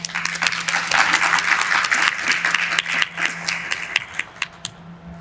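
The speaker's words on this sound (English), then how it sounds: "I would like to ask for a round of applause for our two speakers." An audience at an anniversary event claps for two speakers, a fairly close burst of many hands that thins to scattered individual claps and fades out by the end.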